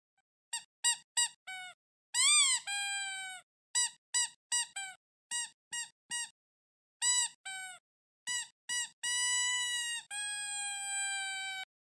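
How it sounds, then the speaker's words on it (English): A squeaky toy squeaks sharply and loudly in quick, uneven bursts of short chirps, broken by a few longer drawn-out squeals, close and alone with no voices. "Do you guys even know what a squeaky toy sounds like?"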